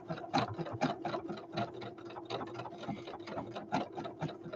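Embroidery machine stitching out a name on a Best Nest flower basket tag, a steady rapid mechanical clatter of needle strokes with regular ticking pulses, close and continuous with no talk.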